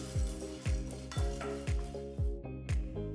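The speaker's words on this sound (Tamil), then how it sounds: "ஒரு பேன்ல 2 டீஸ்பூன் எண்ணெயை ஊற்றி எண்ணெய் சூடானதும் 2 டீஸ்பூன் கடலைப்பருப்பு, 2 டீஸ்பூன் உளுத்தம் பருப்பு சேர்த்து 3 நிமிஷம் லோ ஃப்ளேம்லேயே வச்சு வறுத்துக்கலாம்" Chana dal and urad dal fry in two teaspoons of hot oil in a pan over low flame, a steady sizzle broken by six regular scraping stirs of a spoon against the pan, close and clear.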